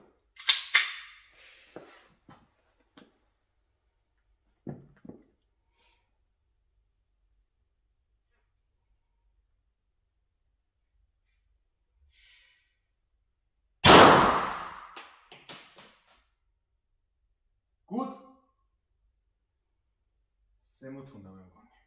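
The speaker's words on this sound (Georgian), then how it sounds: "50 მეტრი პისტოლეტი მაკაროვი." Makarov pistol shots fired at a 50-meter range, a few sharp loud cracks spaced far apart amid quieter clicks and handling noises, with people talking between the shots.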